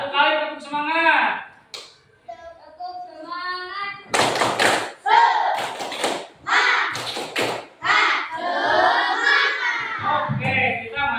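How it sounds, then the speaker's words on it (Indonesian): A classroom of children performs a rhythmic spirit clapping chant, sharp bursts of group clapping punctuating their chanting voices, with an adult voice speaking at the start. "Satu kali tepuk semangat."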